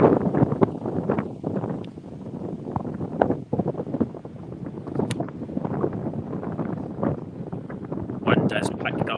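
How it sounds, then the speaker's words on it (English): Strong wind gusting across a golf course during a club matchplay final, rumbling and buffeting close against the microphone in uneven surges, with voices talking over it. "Wind has picked up really badly, really windy now."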